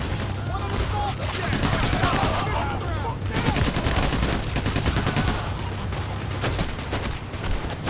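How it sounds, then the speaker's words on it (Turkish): Dense, continuous gunfire rages through a firefight in the video game Payday: The Heist, with rapid automatic bursts overlapping loud, close shots that never let up for the whole stretch. "Bu nasıl çatışma lan?"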